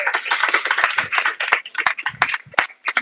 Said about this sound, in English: Let's give them a round of applause so they can hear us.